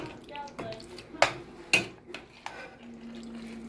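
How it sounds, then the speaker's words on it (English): A spoon stirs lasagna sauce mixture in a pot, giving a few faint clinks and soft wet scrapes against a quiet kitchen background. "And I'm going to stir it."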